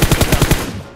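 Rapid automatic gunfire in PUBG Mobile, a burst of about six evenly spaced shots in quick rhythm, loud and close, trailing off into a short fading echo.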